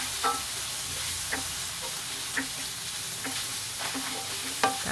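Garlic sautéing in oil in a new pan: a continuous close sizzle with occasional spoon scrapes and light taps at an irregular pace.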